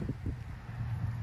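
Low, gusty wind buffets the microphone on a warm golf course, a soft steady rumble with slight fluctuations and no voices.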